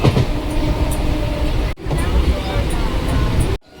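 A train pulling into a railway station, a broad rumbling rail and engine noise that runs steadily throughout, with people talking over it and two brief breaks in the sound.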